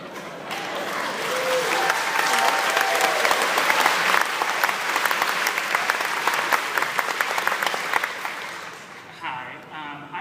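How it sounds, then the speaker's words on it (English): Film festival Q&A audience applauding, a sustained burst of clapping that swells and holds for several seconds, then thins out with a few scattered claps at the end. "see all of you clapping and going crazy"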